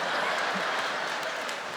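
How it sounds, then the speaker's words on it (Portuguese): An audience at a church talk applauds, a dense, steady wash of clapping held at an even level throughout, with faint voices mixed in. "O povo aplaude até anti-higiene, meu Deus."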